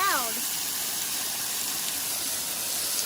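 Steady broadband roar of a waterfall at a riverside fishing spot, loud and continuous throughout, with a brief voice-like chirp at the very start.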